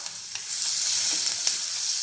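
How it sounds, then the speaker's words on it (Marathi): Chopped onion sautéing in hot oil for a papad bhurji, a steady close crackling sizzle with a few louder spits, no voices. "हा कांदा चांगला परतून घ्यायचा"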